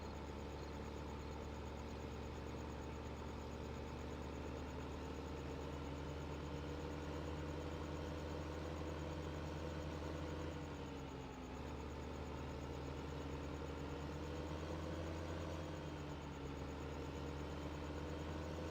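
A tractor engine drives in the farming video game Farming Simulator 15, giving a steady, continuous low drone with a slight wavering pitch, fairly quiet and heard alone throughout.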